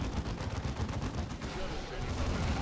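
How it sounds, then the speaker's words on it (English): Dense, continuous gunfire rattles through a battle in Warhammer 40K: Dawn of War 2, a steady barrage of rapid shots with no break across the stretch. "Heavy fire."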